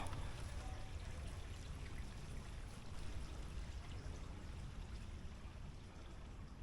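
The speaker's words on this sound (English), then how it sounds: "Gorgeous little stream." A small creek flowing just up from a coastal lagoon on the Pinny Beach loop track, a faint, even wash of trickling water throughout with no voices.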